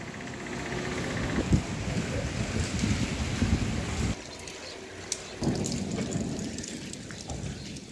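Heavy rain pouring on a street in Jhansi, a loud, dense hiss that suddenly drops to a quieter patter midway, with a few sharp splashes and knocks.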